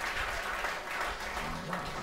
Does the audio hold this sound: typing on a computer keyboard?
no